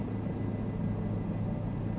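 A Bell 407 helicopter hovers in Microsoft Flight Simulator 2024, producing a steady, even rotor-and-turbine rumble with a low drone and no talk.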